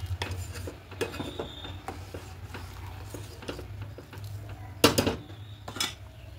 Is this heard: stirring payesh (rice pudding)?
yes